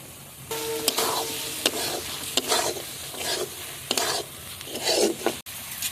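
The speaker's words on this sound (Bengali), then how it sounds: "মটরশুঁটিটা একটু কষিয়ে নেব ভেজে রাখা আলুগুলো দিয়ে দেবো" Peas and fried potatoes sautéed in a pan, with repeated scraping strokes of a spatula roughly every half second to second over a background sizzle, close and clear.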